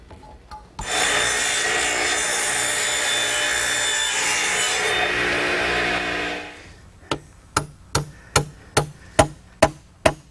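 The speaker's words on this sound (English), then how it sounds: "Now I'm going to swing the radial arm to 33 degrees on the other side of 0 and finish the cut." A radial arm saw cuts wood for a gazebo in one loud, sustained whining rip of about six seconds, which winds down and is followed by a series of sharp, evenly spaced knocks.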